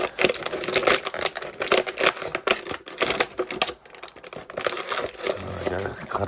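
A boxed General Mills Franken Berry figure being cut free of its plastic packaging, with crinkling, tearing and snipping sounds that are fairly close and busy throughout.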